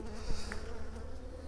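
Honeybees buzz at an open beehive with a dense colony, a steady, close, droning hum with no voices.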